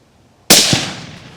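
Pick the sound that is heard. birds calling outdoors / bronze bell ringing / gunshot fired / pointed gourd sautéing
gunshot fired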